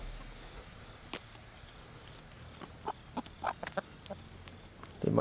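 Chickens cluck in a short scatter of quiet clucks over a low background hum, with a louder call at the end.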